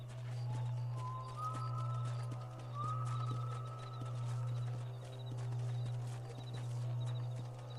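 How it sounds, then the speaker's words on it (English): Steady clip-clop of horse hooves at an even trot, with a constant low hum and a faint rising tone underneath. "let's get on the horse"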